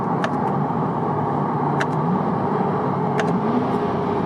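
A 2020 Chevrolet C8 Corvette accelerating hard, a steady loud broadband engine and road roar running throughout with a few brief sharp transients on top, and no voice present.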